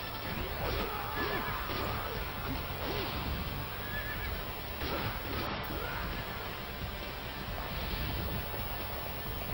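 A horse neighs amid battle noise in the Dynasty Warriors 3 video game, a whinny over dense clattering hooves and crashing combat sounds, loud and continuous with no talking.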